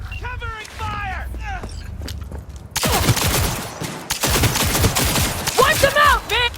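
Gunfire rattles in a Cyberpunk 2077 firefight, dense bursts of shots breaking out loud and close. Voices shout over the shooting.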